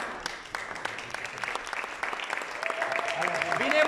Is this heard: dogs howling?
no